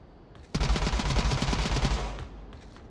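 Rapid automatic gunfire in the VR shooter Onward during a 5v5 competitive match, a sudden close, loud burst of quick shots lasting about a second and a half before trailing off.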